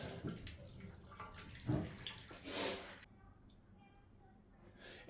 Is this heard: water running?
yes